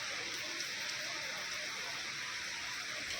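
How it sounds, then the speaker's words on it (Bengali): Light early-morning rain falls steadily as a soft, even hiss of drops with no distinct individual patters, continuous and moderately distant throughout, with no voices. "বৃষ্টি হচ্ছে।"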